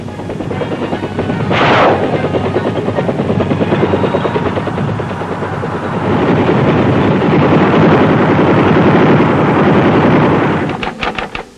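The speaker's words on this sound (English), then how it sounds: "Independence of movement was provided by 2 platoons of troop-carrying helicopters and a gunship platoon." Troop-carrying military helicopters thump and roar loudly and steadily overhead, with wind buffeting the microphone and a rapid chopping pulse near the end.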